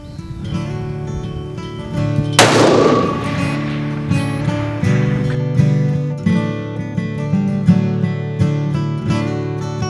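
A single sharp rifle shot from a Ruger Precision Rifle in 6.5 Creedmoor cracks loudly, followed by a long rolling echo and lingering outdoor ambience, with no talking.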